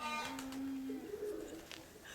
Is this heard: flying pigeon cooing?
yes